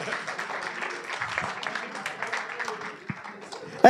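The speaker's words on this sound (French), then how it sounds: "On les applaudit, bravo." Scattered applause from a church congregation greeting a newly arrived couple during a family mass, steady and moderate, with a louder burst near the end.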